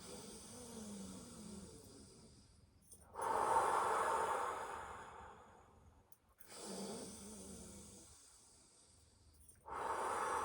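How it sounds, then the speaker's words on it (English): Slow, deep breathing during a qigong exercise, close and fairly quiet. Long airy inhales and exhales swell and fade in a steady rhythm, with two full breath cycles and no talk. "Take your hands in time with your breath, breathing in."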